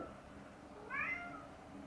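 A cat indoors gives a single short meow, fairly faint against quiet room noise, as it asks to be let in.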